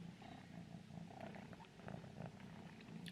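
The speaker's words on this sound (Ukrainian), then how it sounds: "Чуєте, як муркає?" A cat purrs steadily up close, a continuous low rumbling hum with soft rhythmic pulses, lasting throughout without voices.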